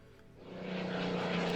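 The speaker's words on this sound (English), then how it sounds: "We've got a Messerschmitt." A Messerschmitt aircraft engine in the video game Order of Battle swells from quiet into a steady, loud propeller drone with a strong low hum, sustained and close, with no voices.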